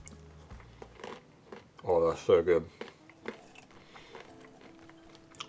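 Someone chews crunchy seasoned roasted nuts, with a couple of brief crunching bites standing out between quiet stretches, and a voice speaks softly at the start and again afterward.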